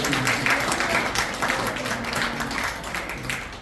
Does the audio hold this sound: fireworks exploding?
no